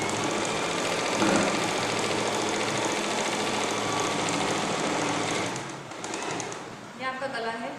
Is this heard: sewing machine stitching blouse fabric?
yes